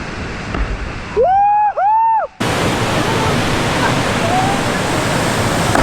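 A waterfall roars loud and steady at a cliff-diving spot near Buchene, with a short whistling, tonal sound rising over the water before the rushing noise swells and fills the rest.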